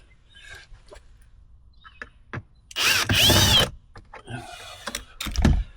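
A power drill boring holes into a Nitro Z6 boat: faint handling clicks and taps, then a loud, sustained drilling whine of about a second, followed by more scattered knocks and a final thump.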